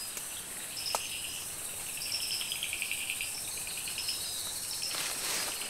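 Mantella tree frogs call at night in Madagascar in a dense, high-pitched chorus of chirps and trills, steady and moderately faint, with no voices.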